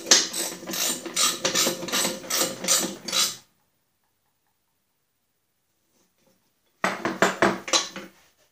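Spindle bolts being tightened with a ratchet on a Snapper mower deck: a rapid, close clicking ratchet run for about three seconds, silence, then a second shorter burst of clicks.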